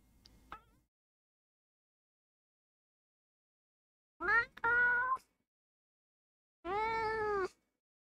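A cat gives two clear, drawn-out meows a couple of seconds apart, close and fairly loud, after a short faint tick and quiet gaps.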